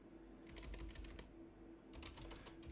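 Fingers type on a computer keyboard in two quick bursts of light, close key clicks separated by a short pause, over a steady low electrical hum.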